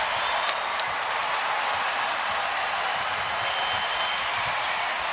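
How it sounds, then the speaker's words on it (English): Basketball arena crowd at a Kentucky versus UNC-Wilmington college game, a steady, dense wash of cheering and applause filling the whole stretch, with a few faint sharp ticks on top. "the first collegiate hoop from Aaron Bradshaw brings a big cheer from the Rough crowd"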